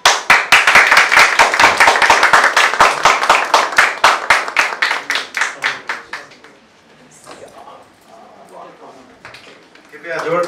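An audience claps at a certificate presentation during a training course closing ceremony, a dense burst of hand claps that thins into scattered claps and fades, followed by quieter murmuring.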